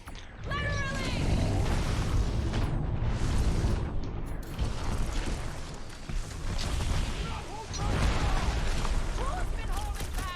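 Smart bomb explosions from the Guardians of the Galaxy game during a dragon fight, a continuous roar of booms and rumbling mixed with shouted character voices and battle noise.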